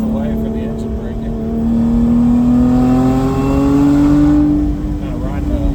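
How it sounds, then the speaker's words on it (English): A Lotus car's engine held in second gear on a mountain road near Fontana Dam, droning steadily with a rising, sustained tone as revs climb, loud and close throughout. "Keep it in second gear most of the way for the engine braking."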